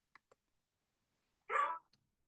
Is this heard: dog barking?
yes